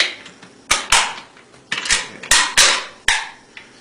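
Metal clacks and snaps of an AK-47 rifle being reassembled, with the top cover fitted back on, in a series of sharp close clicks and knocks separated by brief pauses.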